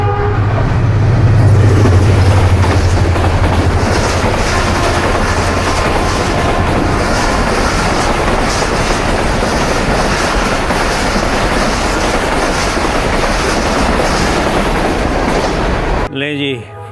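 Karakoram Express passenger train rushing through Jung Shahi station at about 102 km/h, a loud sustained roar of wheels and rail clatter close by, with a low horn-like drone at the start and the noise cutting off near the end.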